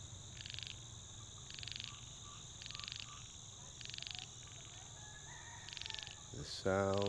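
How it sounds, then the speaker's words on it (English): Frogs calling at dawn in the foggy, damp countryside of rural Thailand: repeated bursts of pulsed croaking roughly once a second, set against a steady insect drone, with a sharper rising call near the end. "But frogs also, can you hear them?"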